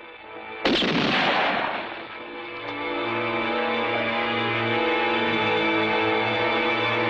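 A single loud gunshot rings out during a western film duel, a sharp blast followed by a long reverberating decay that settles into a sustained droning tone.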